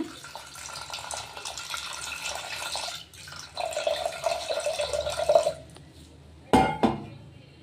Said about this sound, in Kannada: ಇದಕ್ಕೊಂದು ಸ್ವಲ್ಪ ನೀರು ಹಾಕ್ಕೊಳ್ಳೋಣ